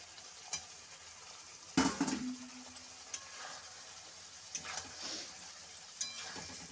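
Eggplant and potato chunks drop into hot spiced masala for a Bengali fish curry. A sharp sizzle swells as they hit the oil, followed by a quieter steady fry punctuated by a few stirring scrapes.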